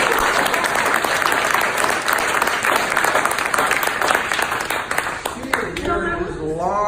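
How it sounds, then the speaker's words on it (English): Audience applause for a comedy act, dense and sustained clapping filling the room at steady volume, fading toward the end as a voice begins speaking over it. "Everybody applaud for comedy."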